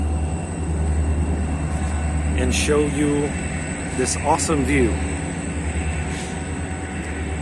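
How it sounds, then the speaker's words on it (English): A train passing by in a mountain setting makes a continuous low rumble in the background, under someone speaking close to the microphone. "I think there's a train passing by."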